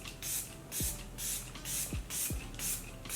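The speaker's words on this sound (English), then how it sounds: "So I'm gonna spray this." Makeup setting spray misted onto the face in several short, close hissing bursts spaced about a second apart, with small clicks from the pump between them.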